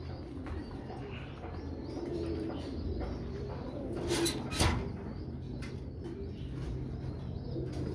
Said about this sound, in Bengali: এগুলো আমাদের পুরানো কবুতর